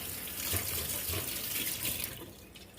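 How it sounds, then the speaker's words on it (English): Hands are washed under a running kitchen tap in a steady, moderately quiet stream of water splashing into a sink, with no talking. "I'm going to wash my hands."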